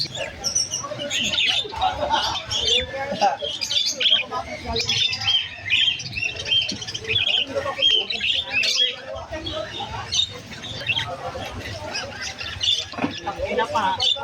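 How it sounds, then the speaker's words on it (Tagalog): Lutino parakeets at a bird breeders' sale call continuously with busy chirps and squawks, a dense mixed chorus of many birds heard close by. "Ayan mga Lutino Parakeets ni Boss Aris Rueda."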